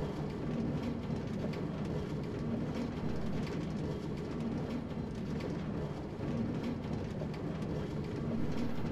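A video-game train engine rolls along the rails with a continuous low rumble and faint rattling, steady and moderately quiet, with no one talking over it.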